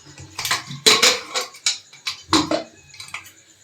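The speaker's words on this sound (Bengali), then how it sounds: "এখন আমি প্রেসারটা খুলে দেখে নেব ডালটা" A pressure cooker holding cooked dal is opened, with a run of close, sharp metallic clanks and rattles of lid and pot, several quick knocks in uneven bursts.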